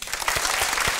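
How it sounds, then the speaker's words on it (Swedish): A burst of clapping from a small TV bingo show audience, steady and fairly loud through the whole moment, with no voices over it. "Grattis och en applåd."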